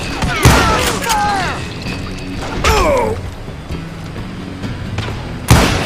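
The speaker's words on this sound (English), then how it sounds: "Who's shooting at me?" Gunshots ring out in the Western video game Call of Juarez Gunslinger, with several loud, booming shots spaced a second or two apart amid ricochet-like whines, ending in one more sharp blast.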